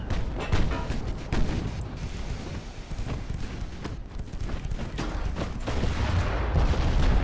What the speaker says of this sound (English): There goes another torpedo hit.